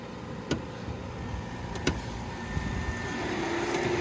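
A 2002 Toyota Avalon six-cylinder idles quietly with its hood raised, a low, even hum with a few faint clicks and a thin whine rising near the end.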